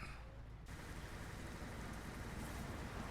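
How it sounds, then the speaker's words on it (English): Rain while driving a truck in Euro Truck Simulator 2, a steady dense hiss of rainfall with a low rumbling background, quiet and continuous after a brief softer opening, with no talking. "I like driving in the rain."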